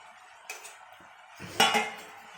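A spoon scrapes and clinks against a pan while stirring cut okra into gravy, two or three close metallic knocks and scrapes over a quiet background.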